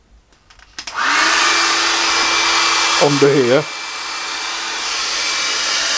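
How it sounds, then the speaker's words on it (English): A hair dryer blasts loud and steady near a Creality CR6 SE 3D printer to warm its heated bed and thermistor, switching on with a rising whoosh and running continuously while someone talks briefly over it. "So if I get a hairdryer,"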